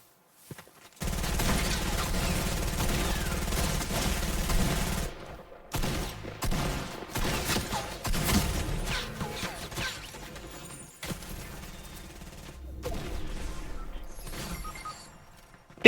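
Gunfire from a Fortnite match comes in bursts of rapid automatic shots. The bursts are separated by short silences, and the shots are fairly quiet and sound close.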